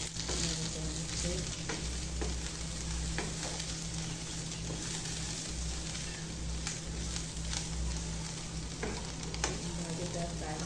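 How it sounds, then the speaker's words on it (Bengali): Malabar spinach fruit stir-fry being stirred in a pan, with continuous sizzling and frying alongside repeated scraping strokes of a spoon, close and steady for the whole stretch. "আবারও ঢাকনাটা তুলে নেড়ে করে নিচ্ছি।"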